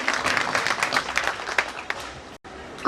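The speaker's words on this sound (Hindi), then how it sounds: "एक बार तालियां बजा दीजिए" An audience at a comedy drama stage show applauds, dense clapping filling most of the moment before tapering off, with a brief pause and then a loud voice near the end.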